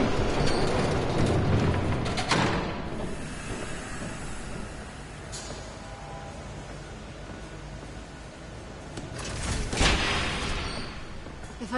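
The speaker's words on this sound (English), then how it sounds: "There's a train coming." An approaching train in a Batman video game, heard as a loud mechanical rumble with sharp clanks at the start, then a steady low roll that fades and swells again into a heavy rush near the end.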